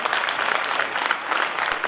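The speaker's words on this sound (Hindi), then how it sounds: "तालियों में कमी नहीं रहनी चाहिए" Steady applause from an audience at a teacher's retirement function, dense and continuous hand clapping filling the room with no voices over it.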